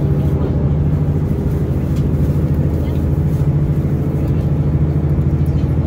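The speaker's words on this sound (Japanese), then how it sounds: "列車かなり混雑した状態で名古屋駅を発車です" Crowded Rapid Mie diesel railcar pulling out of Nagoya station, a steady low engine drone and rolling rumble from inside the carriage, loud and continuous.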